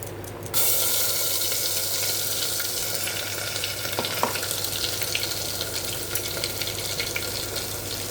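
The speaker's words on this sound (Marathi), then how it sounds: "त्याचं तेल सुटेपर्यंत चांगला हा मसाला परतून घ्यायचा" Ground masala paste fries in hot oil for a vegetable usal with black peas, a steady close sizzle that starts abruptly and holds throughout, with a few faint clinks of a utensil partway.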